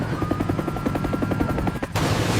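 Animated helicopter flying, a steady rhythmic rotor chop close by, cut off abruptly by a burst of broad rushing noise near the end.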